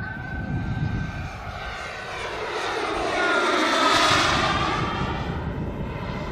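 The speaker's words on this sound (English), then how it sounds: "I'll do a flyby and a climb. Okay. With some smoke." Radio-controlled Tuono NRG model airplane making a smoke flyby and climb, engine drone swelling as it passes close overhead around the fourth second, then fading, with steady background rumble throughout.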